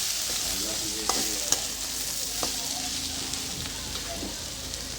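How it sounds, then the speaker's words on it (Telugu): Curry with tomatoes, made with bitter gourd, is stirred in a pan under a steady soft sizzle, with a few faint clicks and scrapes of a spoon against the pan. "టమాటాలు వేసి మంచిగా కలుపుతున్నానండి కర్రీని."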